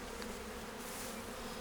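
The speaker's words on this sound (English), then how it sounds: "These are usually bees that are chewing themselves out." Honey bees swarming around an open beehive at a conservation area, a steady dense buzzing hum filling the space, close and continuous with no other sounds.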